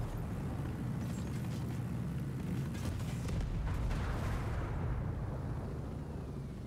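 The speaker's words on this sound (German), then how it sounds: "Zu schöne Explosion." A deep, rumbling video game explosion in Ghost Recon Breakpoint rolls on for several seconds, heavy low-end roar with crackling debris, loud and continuous.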